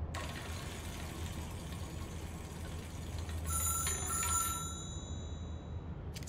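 A telephone rings in the Control video game, a few bright electronic trills breaking in partway through over a constant low ambient drone.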